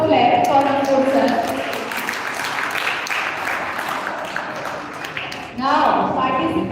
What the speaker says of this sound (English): Give a big sound of clap for Ankur sir.